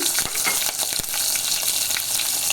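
Mustard seeds, cumin and green chillies fry in hot oil with a loud, dense crackling sizzle and scattered sharp pops, all close and without voices.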